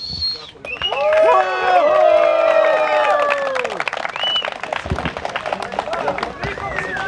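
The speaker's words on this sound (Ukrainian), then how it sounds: "Оплески, оплески Коваленко Олегу." Crowd at a football tournament award ceremony in Glevakha cheering and clapping, rising shouts and whoops over scattered applause, loud early then easing into looser clapping with voices still calling out.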